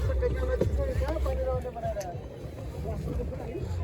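A boat moving across the lake at Kulekhani, with steady low engine or water rumble and wind buffeting the microphone, fairly loud and continuous, while people talk over it.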